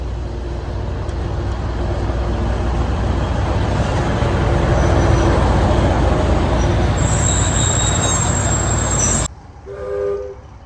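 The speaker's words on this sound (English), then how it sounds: "Looks like we got the diesel engine today, but she's pulling into the station." A diesel locomotive on the Virginia and Truckee Railroad rumbles into a station loudly and steadily with a sustained low roar, a high squeal of wheels appearing near the end before it abruptly cuts off.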